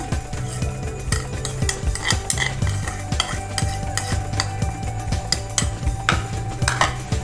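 Chopped onion fries in a pan while a spoon stirs it in quick rhythmic scrapes and clinks against the metal, over a continuous sizzle, close and clear with no voices.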